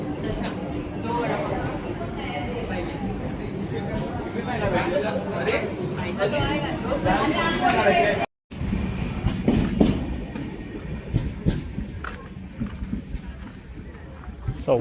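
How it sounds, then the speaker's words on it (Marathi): A train pulls into Vaibhavwadi station, its low rail rumble blending with platform crowd chatter and nearby talking, with a brief dropout midway. "कोणीतरी ट्रेन आलाय"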